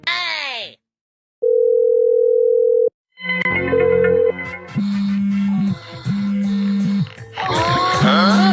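A phone dial tone sounds as a call is placed, a steady flat hum lasting about a second and a half between bursts of cartoon voices and musical effects, close and loud.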